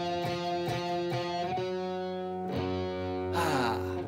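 Loud distorted electric guitar chords ring out through an Orange amplifier's reverb: a few quick strummed stabs, then sustained metal chords changing twice, no voices.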